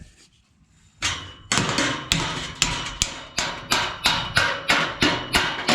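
Sharp metallic hammer taps on a stubborn gate hinge, about a dozen evenly spaced strikes after a brief quiet start, close and loud with no talking.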